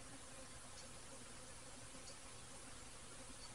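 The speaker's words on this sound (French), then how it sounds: "les abeilles cherchent à sortir, c'est tout à fait normal" Honeybees buzzing as they try to leave a hive while frames are put back into it, a faint, steady, dense hum with no voices.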